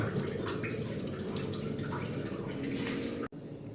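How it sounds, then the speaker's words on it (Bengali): Boiling hot water poured from a vessel into rice flour for kneading dough, a steady close trickling, splashing pour that cuts off abruptly near the end. "এখন গরম জলটা দিয়ে এটা মাখবো"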